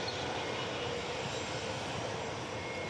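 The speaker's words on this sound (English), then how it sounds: "There it is. It's an Airbus A321." Airbus A321 jet airliner at DFW Airport, a steady, loud broadband engine roar sustained without a break, heard alone with no talk.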